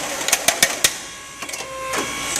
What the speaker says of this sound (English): We're going to bend, it bends the steel.